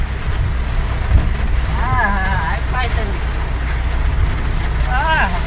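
Steady heavy rain pours down as a constant wash of noise, with a voice calling out briefly over it.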